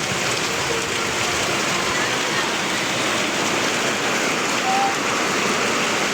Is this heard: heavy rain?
yes